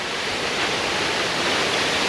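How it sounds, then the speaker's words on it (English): Federal Falls, a waterfall running high after recent rain, gives a steady, dense, loud roar of rushing water that fills the whole moment without any break, with no voices. "It's a hell of a waterfall."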